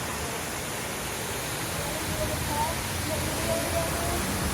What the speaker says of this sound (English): So we're looking right down the wall, down the waterfall.